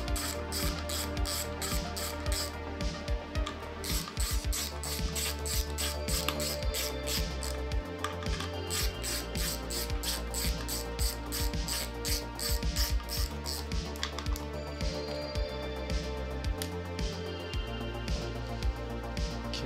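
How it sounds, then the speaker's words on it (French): A small ratchet wrench working on the timing components of a Nissan 350Z: rapid, steady clicking of the ratchet pawl, close and continuous, with no talk. "Est-ce que mon petit cliquet, il y va?"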